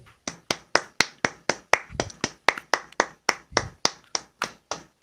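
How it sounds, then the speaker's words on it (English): A small group clapping together in a sparse, ragged rhythm of sharp, distinct hand claps at close range, each crack standing out clearly against quiet. "Let's give ourselves a clap."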